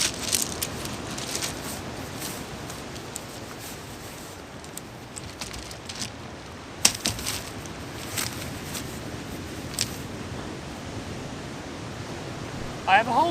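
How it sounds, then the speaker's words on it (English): Waves crash continuously on a New Zealand beach, a broad steady roar of surf with occasional louder breaks and bumps, close and filling the scene with no talk. "The coast is pretty loud,"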